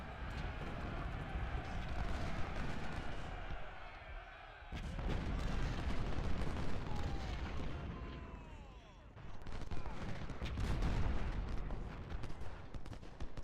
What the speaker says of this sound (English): Took a volley there from Frank.